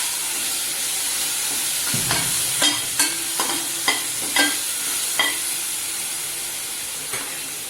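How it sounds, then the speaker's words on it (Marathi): Masala frying in hot oil for potato-and-pea rice, a steady sizzling hiss with several sharp stirring scrapes and clinks of a spoon against the pan, fairly close and with no voices. "तेलावर छान परतून घ्यायचा आहे."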